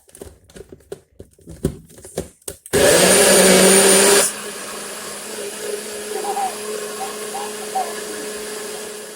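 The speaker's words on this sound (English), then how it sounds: "we're going to put it on our blender, NutriBullet right here" A loud NutriBullet personal blender blending a smoothie whirs steadily for about a second and a half after some clattering handling noises, then a low electrical hum lingers.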